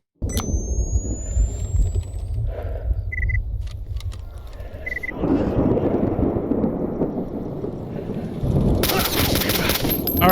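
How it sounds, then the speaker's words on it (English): Thunderstorm rolling in within the video game STALKER Anthology: a low, continuous rumble with crackling bursts that swells louder midway and again near the end, mixed with game effects and faint clicks. "Sounds like a storm trying to roll in"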